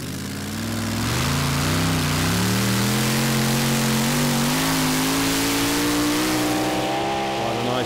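Cougar, a Swedish pulling tractor, revs its engine hard during a tractor pull run at a Eurocup event in Denmark. The loud, sustained roar climbs steadily in pitch as it pulls a heavily loaded sled down the track.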